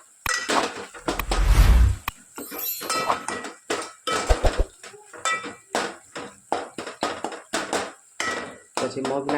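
A metal spoon scrapes and clinks against a cooking pan while stirring tomatoes, giving a loud irregular run of sharp taps and scrapes that repeat through the whole stretch, with no voices.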